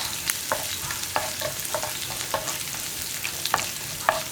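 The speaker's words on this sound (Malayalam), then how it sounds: "ഇഞ്ചിയും വെളുത്തുള്ളിയും ഒന്ന് കുക്കായി തുടങ്ങുന്നത് വരെ നമ്മളൊന്ന് ഇളക്കി കൊടുത്തുകൊണ്ടിരിക്കണം." Ginger and garlic fry in a pan with a steady, quiet sizzle. A spoon scrapes through them in regular stirring strokes about every second. No voices are heard.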